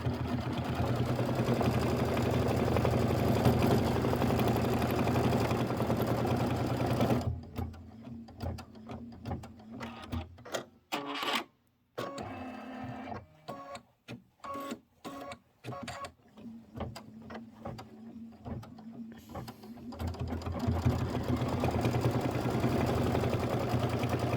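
An embroidery machine stitches a tack down and then satin stitching, a steady mechanical whir broken midway by a stretch of rapid, choppy needle strokes before the even hum resumes.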